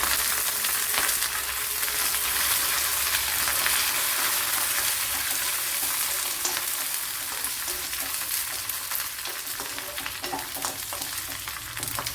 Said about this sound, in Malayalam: ഉള്ളിയൊക്കെ വഴണ്ട് വന്നിട്ടുണ്ട് അതിലേക്ക് വറ്റൽമുളക് ഇട്ട് കൊടുത്ത് ഇനി കറിവിലിട്ട് കൊടുക്കാം